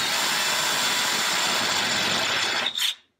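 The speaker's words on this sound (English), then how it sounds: "And then just chamfer that hole a bit." A power tool chamfers and countersinks a drilled hole in a steel rail spike, giving a loud, steady broadband grinding whir for almost three seconds that briefly rises in pitch and then cuts off abruptly.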